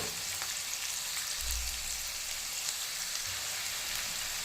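Spices for a tadka fry in hot oil in a pan for a Punjabi potato dish, giving a steady, quiet sizzle with a few low bumps as the pan is stirred. Nobody speaks.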